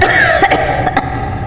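A woman's heavy coughing fit, several harsh close coughs bunched together with breathy rasping between them, heard alone without talk.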